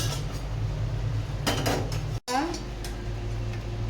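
An empty cooking pot set down and handled on a stove while making tandoori tea, metallic clinks and clatter in a short burst with a sharp knock, over a steady background hum.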